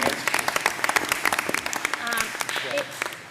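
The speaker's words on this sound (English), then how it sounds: "we owe a big round of applause to all the parents that had become educators" Round of applause for parents who became educators at home, heard at a school choice roundtable: a brief burst of clapping from a small group under a speaking voice.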